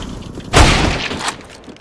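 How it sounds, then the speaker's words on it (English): A flashbang grenade thrown in Counter-Strike: Global Offensive lands with a sudden loud burst and a hissing, crackling wash that fades over about a second. "Throwing a flashbang."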